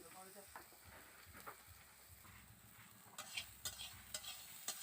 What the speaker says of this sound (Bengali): সয়াবিনগুলো আমি ভালোভাবে একটু ভেজে নিচ্ছি